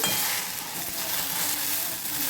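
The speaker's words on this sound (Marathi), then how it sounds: "कढईमध्ये तेल घालून असं भाजायची आहे भेंडी" Okra frying in oil in a wok, giving a steady, close sizzle that holds without a break and with no voices over it.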